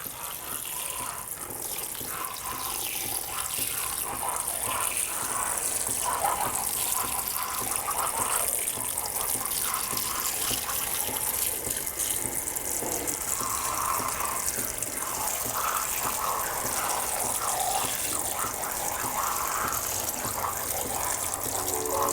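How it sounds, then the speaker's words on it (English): Water poured onto freshly sown cucumber seedlings, a steady continuous gush and splatter at close range that runs without a break, with no talking over it. "And now we're going to give them a beautiful, beautiful water."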